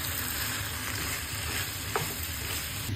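A pan of yakisoba with carrot and meat is stirred over high heat: a steady, close sizzle of frying runs throughout, with utensil scrapes and a brief clack near the end.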